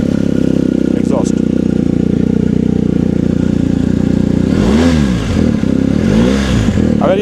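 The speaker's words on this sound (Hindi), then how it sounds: "अगर ये आप आवाज़ नॉइज़ सुन रहे हो, अगर आपको आवाज़ आ रही है तो ये एक्रोपोविक की है।" Loud, close engine of a BMW R 1250 GSA motorcycle breathing through an Akrapovic exhaust, holding a steady rumble and then rising sharply in two revs near the end, with a voice talking over it.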